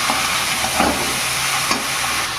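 Onions browning in a pan sizzle with a steady broadband hiss, and a couple of soft scrapes mark them being stirred, all fairly loud and close with no talk.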